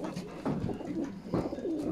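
Pigeons cooing inside a dovecote, soft low repeated coos rising in a few swells over a steady murmur of birds close by.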